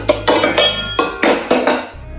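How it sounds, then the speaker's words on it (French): Metal pot clanks and scrapes several times in quick succession, close by, with ringing metallic tones between the knocks. "je prépare ma casserole"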